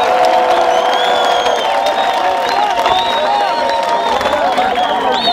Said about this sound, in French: applaudissez pour le chef de l'État, Félix Antoine Tshisekedi Tshilombo